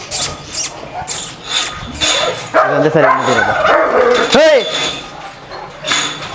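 German Shepherd dogs at a breeding kennel bark in repeated loud bursts, with some higher yips and whimpers, while someone talks over them close by.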